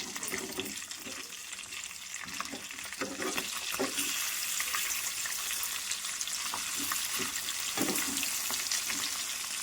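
Pieces of fish frying for a spicy gravy fish fry, with steady dense sizzling and occasional clacks and scrapes as they are slowly flipped in the pan, close and fairly loud.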